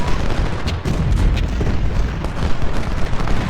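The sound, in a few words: gunfire and artillery across a river, Civil War video game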